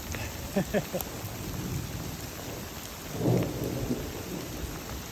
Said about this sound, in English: Rainbow and a hailstorm.